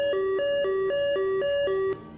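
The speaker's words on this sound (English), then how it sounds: "An alarm goes off above you that kind of startles both of you" An alarm sounds in a rapid, steady two-tone beeping pattern, loud and alone, alternating high and low pitches about four times a second before stopping.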